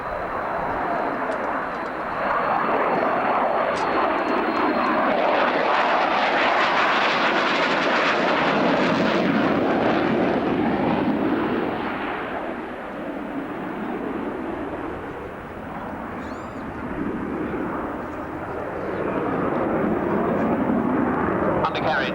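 Military jet flying past at an RAF Abingdon airshow with undercarriage and hook down, a loud rushing roar that builds, swells and fades over twenty seconds, with a commentator talking over it.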